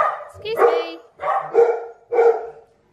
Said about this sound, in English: I don't know why the dogs are barking.